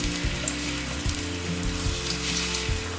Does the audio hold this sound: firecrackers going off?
no